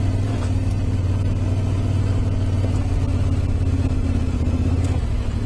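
Yamaha T700 motorcycle engine running in second gear with a rider and passenger aboard, a steady loud drone with a constant low hum and no voices.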